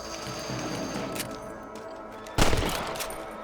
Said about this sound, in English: Better at shooting rabbits than outlaws, I see.